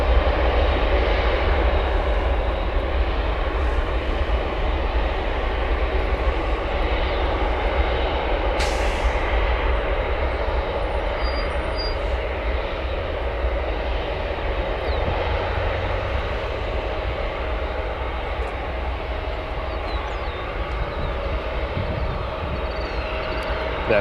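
A British Airways Boeing 777-200 roars down runway 10 left and lifts off at O'Hare Airport, a loud, steady broadband jet rumble filling the whole stretch with no pauses.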